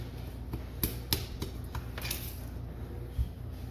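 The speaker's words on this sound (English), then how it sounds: "Mix it all up, don't spill it." A spoon clinks and scrapes against a bowl while cornbread batter is mixed, close, irregular knocks and taps over a quiet background.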